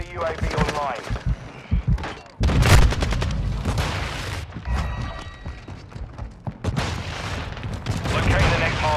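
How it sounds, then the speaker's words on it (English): Bursts of automatic gunfire and explosive booms from a Call of Duty: Modern Warfare II multiplayer match, loud and dense, with sharp volleys in repeated clusters and a voice calling out over the battle. "I'm taking effective fire!"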